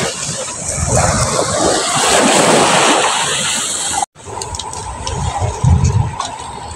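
A river flowing outdoors, heard as a steady broadband rush with wind buffeting the microphone, briefly cut off partway and then resuming at a slightly lower, choppier level.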